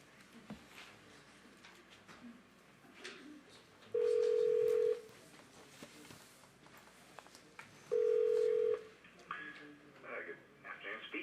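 A telephone ringback tone on a call transferred to an office extension, two steady evenly spaced rings about four seconds apart over faint line hiss and room noise.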